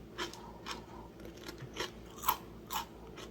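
Crispy spiralized potatoes seasoned with apple cider vinegar are chewed close to the microphone, giving about six distinct crunchy bites spaced roughly half a second apart.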